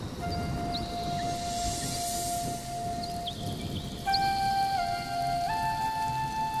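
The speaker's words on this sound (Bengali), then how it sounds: "বাইরে ঝড় বৃষ্টি" Steady rain and stormy weather outside in a Bengali fairy-tale cartoon: a continuous hiss of rainfall holds throughout, with sustained tones layered above it.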